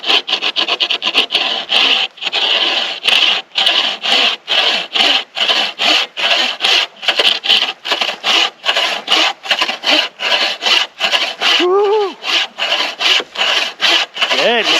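A hand saw cuts through a dense wooden log for firewood outdoors on a snowy mountain, with loud, close, rhythmic back-and-forth rasping strokes repeating steadily, then slowing near the end with a brief creak.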